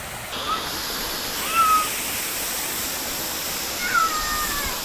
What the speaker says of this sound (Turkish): Burada küçük bir şelale daha var.